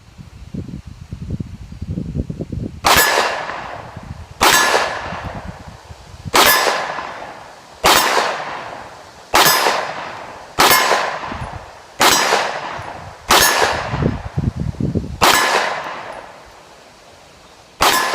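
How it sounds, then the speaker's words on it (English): A SIG P365 pistol fires on a hard target range, each shot ringing off steel targets as a sharp metallic clang, about ten evenly spaced rounds, close and loud, after a little rustling at the start. "I'll leave you a little more footage with us down on that hard target range shooting that SIG P365"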